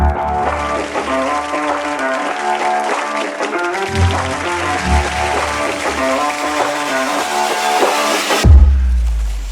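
Applause from an awards-ceremony audience greeting a winner walking on stage, sustained clapping blended with loud walk-on music throughout, ending with a sudden cut near the close.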